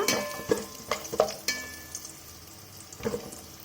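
Cashew nuts frying in a pan for tomato rice, a soft sizzle punctuated by several sharp stirring clacks and scrapes, close by, fading quieter toward the end.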